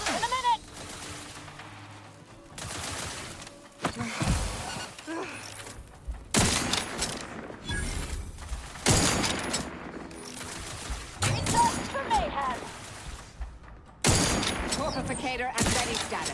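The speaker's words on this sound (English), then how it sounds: "Like this caterpillar artillery." Caterpillar artillery firing in The Outer Worlds 2, a string of loud, sharp bursts and blasts in irregular clusters, mixed with other game effects and a voice speaking at times.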